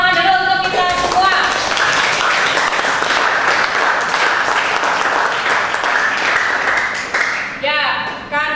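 Crowd of students in a classroom clapping together for several seconds, a dense steady burst of applause that tapers off near the end, with some voices mixed in.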